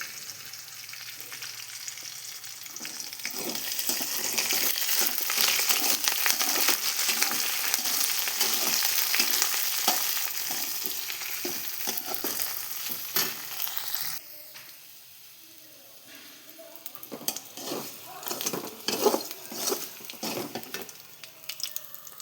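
Curry leaves and green chillies fry in oil in a kadai until crispy, giving a steady close sizzle and crackle with scattered pops and occasional stirring scrapes, quieter and more broken toward the end.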